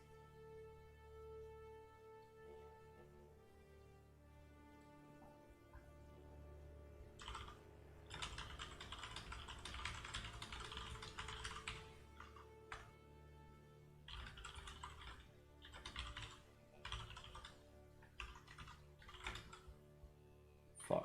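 Computer keyboard typing in dense, fast bursts of light clicks over a low tonal background hum, with short pauses between runs and no talking.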